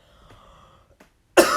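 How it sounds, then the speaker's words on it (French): A single sharp cough, close and loud, bursting out after a brief quiet stretch. "je sens que je vais tousser"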